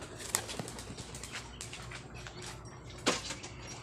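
A pigeon released by hand flaps its wings in short bursts as it takes off, with two sharper flurries standing out against quiet outdoor background noise.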